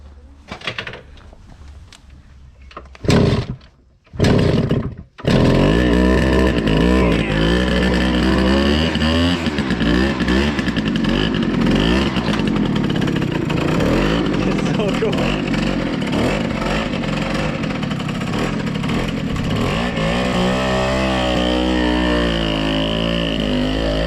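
An engine revs hard and continuously at close range, a loud sustained roar that follows a few brief bursts of starting and cranking, with a moped mentioned as the machine.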